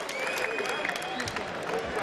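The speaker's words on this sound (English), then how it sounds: "greeted with applause as he goes back to his corner" Boxing arena crowd at a Lee Haskins fight applauding as the boxer returns to his corner after a round; a dense, steady wash of clapping and crowd noise with murmured voices mixed in.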